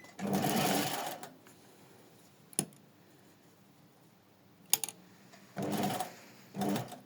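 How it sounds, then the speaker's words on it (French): A sewing machine runs a straight stitch along a dart on twill fabric in short close bursts: one long run at the start, two isolated clicks, then two more quick runs near the end, with quiet pauses between. "je vais me mettre en piqûre droite et on va faire en une seule fois comme ça"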